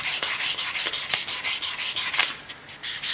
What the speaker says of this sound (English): A bit of final sanding and just getting off my marks with 220 paper.